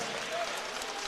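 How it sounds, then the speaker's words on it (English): Sustained applause from an audience at a high school football National Signing Day ceremony, steady and fairly faint, with no pauses. "let's give another round of applause"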